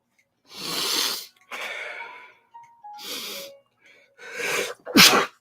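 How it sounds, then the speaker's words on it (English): Several loud, close sneezes, each preceded by breathy inhales and sniffs, end in a final sharp burst; no talking is heard. "I gotta sneeze."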